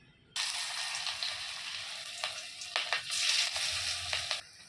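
Marinated beef fries over high flame in hot oil, starting abruptly as a loud, steady hiss and crackle with scattered sharp pops, heard up close and alone.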